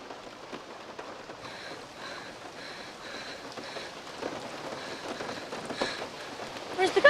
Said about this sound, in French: La pluie est extrêmement importante dans cette séquence.